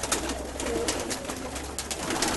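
Domestic pigeons coo in a loft, low throaty repeated calls close by over a steady background hum, with no voices.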